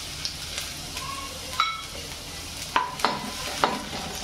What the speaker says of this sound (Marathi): एक पळी तेल टाकलंय, तेल गरम झालंय, लसूण टाकून घेते